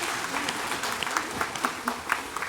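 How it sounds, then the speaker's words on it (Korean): A congregation applauding during a church service, steady close clapping from many hands filling the hall. "다 끝난 줄 알고 박수로 영광을 돌렸는데"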